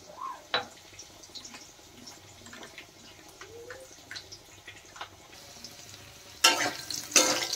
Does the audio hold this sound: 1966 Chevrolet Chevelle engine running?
no